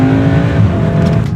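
A 2018 Volkswagen Golf R wagon engine revs hard and loud and close up, a sustained strained roar with no break.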